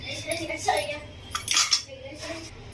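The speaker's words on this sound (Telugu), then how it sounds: "ఈ కర్రీ మధ్య మధ్యలో మనం ఇలా గిన్నెని ఇలా అనుకుంటూ మనం కలుపుకోవాలి." A metal pot is handled and scraped while korameenu fish curry is stirred, producing light clinks and clatters in short irregular bursts, fairly faint at close range.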